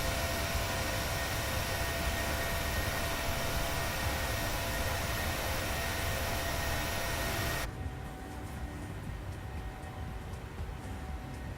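A Boeing 737 climbs in Microsoft Flight Simulator, a constant broadband engine roar with a thin high whine, which drops abruptly to a duller, quieter cabin drone partway through.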